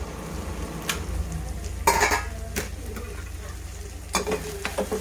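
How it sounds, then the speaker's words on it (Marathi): A metal lid clinks as it is lifted off a pan of capsicum cooking with gram flour, followed by steady sizzling and a few stirring scrapes against the pan. "आता आपण झाकण काढून घेऊ, बघू आपली शिमला मिरची शिजली आहे का नाही।"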